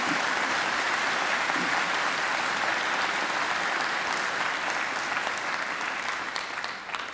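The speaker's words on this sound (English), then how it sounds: "I think Angela deserves another great round of applause" A large crowd applauds at a university graduation ceremony, steady dense clapping filling the hall at an even level before thinning slightly toward the end.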